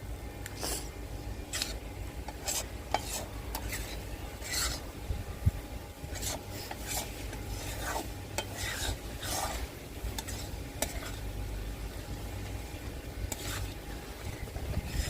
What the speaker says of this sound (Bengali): এবারে চিংড়ি মাছটা ঢেলে দেওয়া হয়েছে।